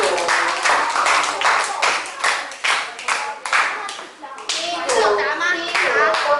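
Classroom of children clapping for a group after a report, a loud, fast burst of many hands that runs nearly continuously, with a voice speaking over it near the end.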